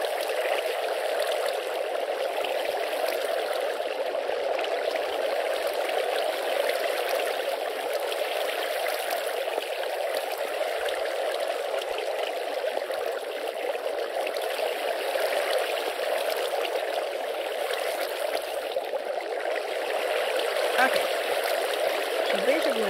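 Water flows in a steady, continuous rush throughout the video game Minecraft, in the Spike Supercraft modpack, an even hiss with no pauses or breaks.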